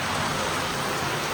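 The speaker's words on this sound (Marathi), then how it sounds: "किती जोरात पाऊस आला बघा" Heavy rain pours down in a dense, constant hiss with no pauses.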